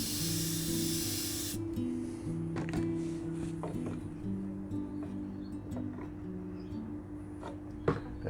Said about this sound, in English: I'm going to spray down on the nose a bit there too